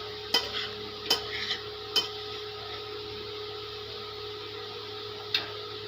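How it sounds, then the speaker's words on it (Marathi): A sweet potato and sabudana mixture with crushed peanuts is stirred in a pan, making four crisp, spaced clacks of a spoon against the metal over a faint steady hum. "तर आपण आता इथे व्यवस्थित मिक्स करून घेतो आहे"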